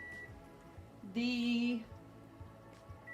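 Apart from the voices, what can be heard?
kitchen timer beeping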